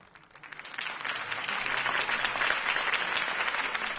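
A crowd applauds after Harvey Dent's campaign speech in a Batman game, the clapping swelling up from quiet and holding steady and dense for a few seconds.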